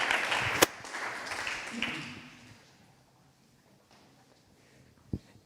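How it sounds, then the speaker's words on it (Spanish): Applause from a crowd fades out over a few seconds, thinning from steady clapping to scattered claps, with a sharp knock near the end. "vamos a darle un aplauso a Luis Arrieta"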